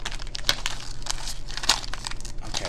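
A crinkly snack bag of star-shaped chips from a Japanese snack box is squeezed and worked open by hand, giving continuous close crackling with two sharper crunches and no talk.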